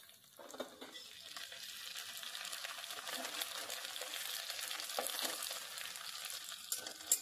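Crushed garlic hits hot oil beside fried onions, setting off a crackling sizzle and stirring sounds with occasional scrapes and clinks, moderately quiet and close, with a sharp knock at the very end.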